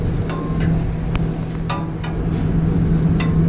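A sandwich filling pressed down onto a hot grill sizzles with a steady, fairly loud crackle and hiss, broken by occasional sharp ticks and scrapes.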